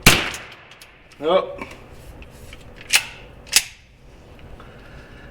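A Derya TM 22 rifle fires several sharp gunshots spaced a second or more apart, loud and close at the start and then lighter cracks, while a person gives a brief exclamation between shots.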